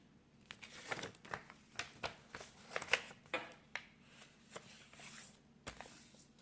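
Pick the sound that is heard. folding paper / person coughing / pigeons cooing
folding paper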